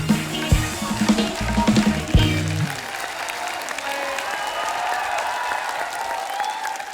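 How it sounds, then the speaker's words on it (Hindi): A studio audience on a television entertainment show applauds the guests. It opens with a voice and tonal sound, then swells into sustained, lively clapping that carries on alone. "एक बार जोरदार तालियां हमारे मेहमानों के लिए।"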